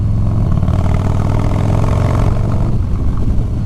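A Harley-Davidson Low Rider S with a Moonshine Horsepower build rumbles loudly and up close, its engine holding a steady, deep throbbing drone at moderate revs with slight mechanical clatter, no voices.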